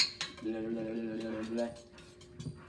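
Pumpkin pie filling beaten by hand in a bowl, a spoon or whisk scraping and clinking against the sides in a quick run of close, light knocks that fades out.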